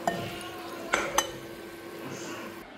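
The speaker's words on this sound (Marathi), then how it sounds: "आता हे छान असं परतून द्यायचं." Grated coconut being stirred and sautéed in a pan for vermicelli kheer: a few sharp metallic scrapes and clinks of a spatula against the pan over a faint sizzle, close and quiet, with no speech.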